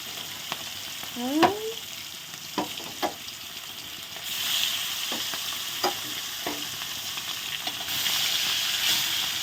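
Rohu fish pieces, with potatoes added at the side, fry in a pan, a close hiss that swells louder partway through, dotted with spatula knocks and scrapes and a brief squeaky tone early on.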